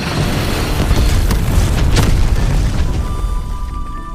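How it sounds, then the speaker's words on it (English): A derailed locomotive explodes in the animated Justice League Warworld, a loud sustained deep rumbling blast with crackling debris that rolls on for several seconds before slowly easing off. "She derails the locomotive, destroying the gold they fought for in the explosion."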